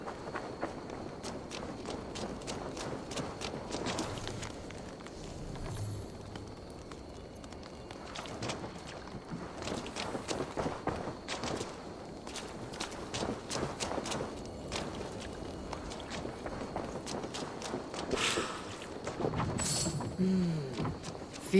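Horse hooves clip-clop steadily across the ground in Assassin's Creed Valhalla, a continuous walking rhythm of close, moderately loud hoofbeats heard alone with no talking.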